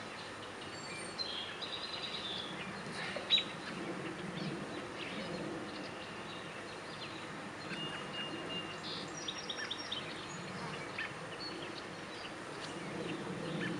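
A honeybee swarm in a hive box buzzes in a steady, continuous drone close by, with a few faint bird calls in the background and no talking.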